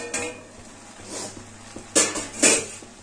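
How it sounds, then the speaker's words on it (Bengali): Metal pot lid lifted off a pan of bottle gourd greens and stalks steaming on the stove, giving two sharp clanks near the end after softer scraping clatter, with a faint background hum. "আমি এবার ঢাকাটা খুলে দিচ্ছি।"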